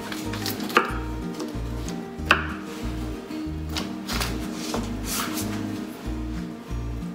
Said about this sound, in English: And then to get even slices, I'll start slicing in each half.